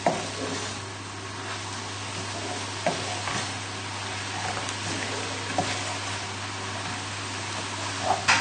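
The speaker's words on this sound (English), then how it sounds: "tip the pasta into the pan. And then just give it a good stir together" Tagliatelle being stirred and tossed in a frying pan with bacon and mushrooms, a steady low sizzle beneath soft scraping and occasional utensil clicks, with a constant background hum throughout and no voices.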